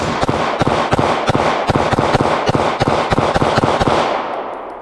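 A Taurus GX4 Micro pistol is fired rapidly in a long string of sharp, loud, closely spaced shots at an outdoor range, ending with a fading tail and no talking.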